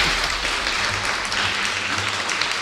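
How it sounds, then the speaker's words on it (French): An audience claps steadily at a live podcast event in Rennes, a dense, continuous wash of many hands from a crowd in a hall, with faint voices beneath. "applaudissez"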